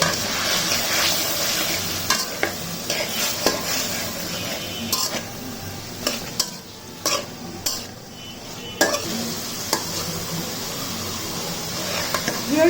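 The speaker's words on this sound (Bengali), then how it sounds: "রসুন দিয়ে এখন বিফটাকে ভাজা হয়ে গেল ফার্স্ট আমি আদা দিয়ে ভেজেছি এখন রসুন এখন ভাজবো" Beef fries with ginger and garlic in a pan, giving a steady sizzle broken by repeated scraping and clinking stirs of a utensil against the metal.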